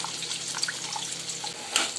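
Tap water runs steadily while elephant foot yam pieces are washed under it, a close splashing hiss with small bright drips and a louder splash near the end.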